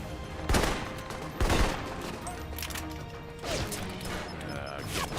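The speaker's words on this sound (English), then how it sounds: "It's a giant gunfight" Gunfire during a large gunfight in the video game Alpha Protocol: two heavy, close shots stand out over steady, clattering background fire and mechanical noise, with another burst of impacts later.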